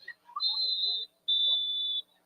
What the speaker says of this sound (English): And now we have a whistle.